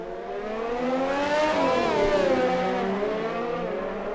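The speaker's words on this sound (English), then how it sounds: "It appears as though a big lock-up for him there." Race car tyre lock-up in a sim racing video game, a loud sustained engine whine with a pitch that swoops up and down as the car brakes hard, with no talking.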